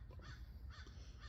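A crow-like bird caws outdoors at a family campsite, with about three harsh calls that sound faint and somewhat distant.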